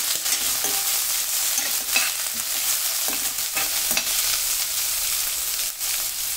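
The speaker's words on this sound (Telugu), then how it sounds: "ఇందులోకి ఆనియన్, కరివేపాకు, పచ్చిమిర్చి ముక్కలు వేసుకోవాలి. మంచిగా మిక్స్ చేసుకోండి." Onion, curry leaves and green chillies fry in a pan while being stirred, a steady loud sizzle broken by scraping strokes of the spoon, heard alone without speech.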